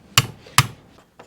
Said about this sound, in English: Again, I'm using a brass hammer.